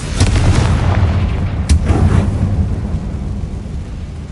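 A Confringo fire spell erupts as a booming explosion in the Hogwarts Legacy video game, a loud close blast with a rumbling low-end tail that fades over several seconds, with no talking.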